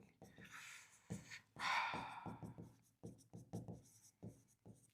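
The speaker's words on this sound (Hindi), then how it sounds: "इक्वेशन जो हमारी गति की समीकरण है वही लिख रहा हूं एक बार" An equation is written out by hand, heard as close, quiet scratchy strokes and taps in short irregular bursts with brief pauses, plus a soft breath or rubbing sound partway through.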